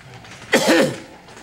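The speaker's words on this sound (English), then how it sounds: "I got the cough bad this time." One short, harsh cough or throat-clearing bursts out close by, a rough single hack that quickly fades.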